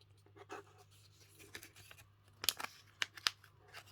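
Paper is creased and folded for an origami peace bird, sounding as soft scattered rustles and then sharper crisp crackles and snaps close by in a quiet room, with no talk.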